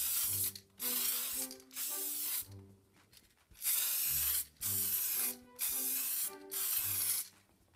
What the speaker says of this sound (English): The box has now had 10 coats of spray lacquer